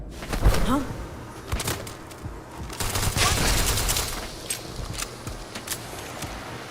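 Rapid bursts of gunfire in the Starfield video game, scattered sharp shots and clustered volleys across the clip, with a brief voice-like sweep early on.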